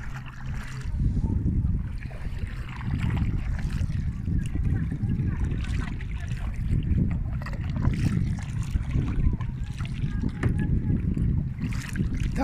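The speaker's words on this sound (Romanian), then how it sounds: "Barca pe Dunăre." Boat travelling on the Danube river, a steady low rumble of engine and water with wind buffeting the microphone throughout, continuous and fairly loud.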